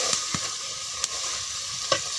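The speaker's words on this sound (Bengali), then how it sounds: "মাছটা আলুটা দিয়ে মিশিয়ে নেব" Pangas fish is stirred into a simmering potato curry, a steady soft sizzle broken by a few scraping stirs of a spoon against the pot.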